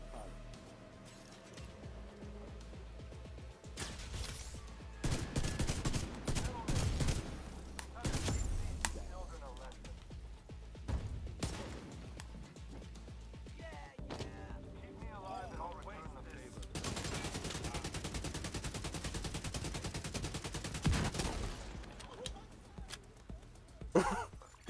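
Gunfire from The Division 2 during the Operation Iron Horse raid, with repeated rapid bursts and single shots over a busy game soundscape.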